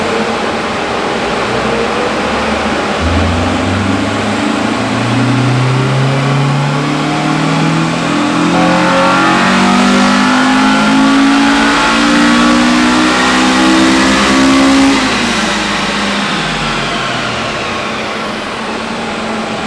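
Honda Civic EM1 engine revving hard on a dyno with fans running, pitch climbing steadily through a long pull over roughly fifteen seconds before dropping off, loud and continuous.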